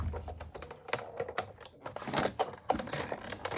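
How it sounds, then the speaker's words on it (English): A hand-cranked die cutting machine turned by hand, producing close, quiet, irregular clicking and ratcheting taps in quick succession. "I'm holding it and cranking it, holding it, cranking it"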